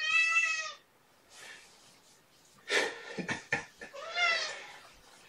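A cat meows several times, loud and close, with drawn-out harmonic cries at the start, in the middle and near the end, and snorting breaths and shuffling between them.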